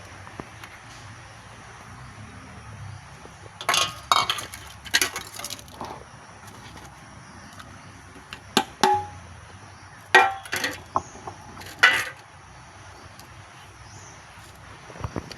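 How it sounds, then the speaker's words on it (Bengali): Dried chillies and black cumin ground on a grinding stone, heard as irregular bursts of gritty scraping and crunching stone strokes in clusters with short pauses, close and moderately loud, no talking. "শুকনো লঙ্কা ও কালো জিরে আগে বেটে নিচ্ছি"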